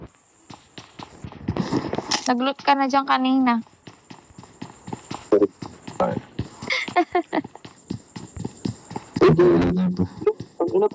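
Horse hoofbeats in the PUBG Mobile video game, rapid clip-clop steps running under loud, excited talk from players throughout.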